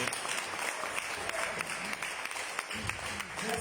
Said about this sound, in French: des applaudissements pour Anisser.